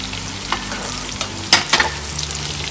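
Fried potatoes tipped into browned onions frying in a pan on a charcoal stove, a continuous close sizzle with a sharp burst and clatter as they go in.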